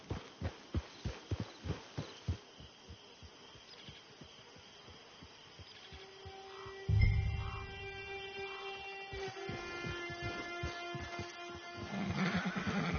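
A horse in Red Dead Redemption 2 gives a rhythmic run of clip-clop hoofbeats, then a whinny, followed by sustained tonal game sound and music, all fairly quiet with no talking.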